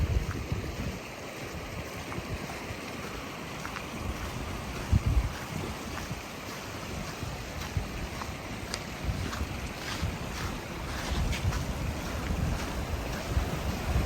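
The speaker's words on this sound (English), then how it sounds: "that right there, folks, is the Pacific Ocean" Pacific Ocean surf rolls onto McClure's Beach at Point Reyes, a continuous broad wash of waves mixed with wind buffeting the microphone, steady and moderately loud with no voices.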